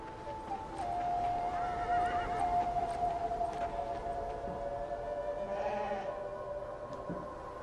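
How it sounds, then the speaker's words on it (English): Horses whinny and sheep bleat near a barn in the video game Beyond Two Souls, with several drawn-out calls overlapping over a steady ambient background. "Here are a couple of barn animals."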